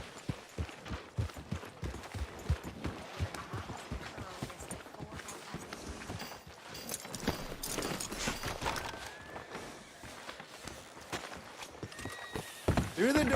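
Horse hooves clip-clop on ground in the Red Dead Redemption 2 video game, a steady walking rhythm amid busy town ambience, with a horse whinny and other movement sounds mixed in.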